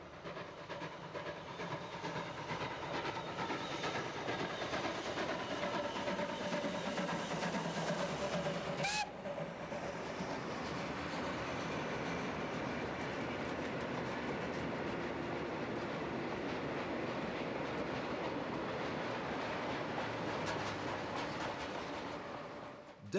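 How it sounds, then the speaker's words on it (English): A Polish TY45 steam locomotive hauls a stopping mixed train past, a loud continuous rumble with steady clickety-clack of wheels and steam hiss, a sharp bang near the middle, then slowly fading. "a TY45 210 makes a very smoky pass en route to Grodzisk with a stopping mixed train"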